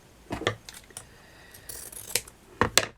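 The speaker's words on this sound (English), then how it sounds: "And you're going to cut it diagonally." Scissors snipping ribbon diagonally, several crisp close-up cuts and clicks in uneven bursts, with a pair of quick snips at the end and quiet pauses between.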